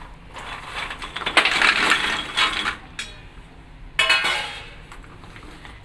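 Fried gavvalu are stirred into sugar syrup in a pan, with a steady gritty scraping and crunchy clatter of the coated pieces rolling under the spoon, loud and close, with a brief lull mid-stir.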